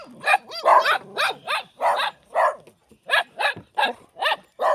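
Several dogs bark close by at night on a farm in Amadeo, Cavite, in quick, rhythmic bursts, about a dozen sharp barks and yelps with brief pauses between them.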